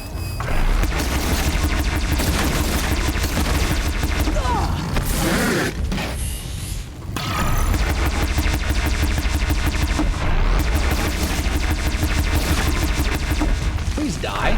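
Ravager cannon blasts in Horizon Zero Dawn during a machine fight: dense, continuous barrage of loud crashing impacts and booms with game music, a brief lull midway, then the heavy firing resumes.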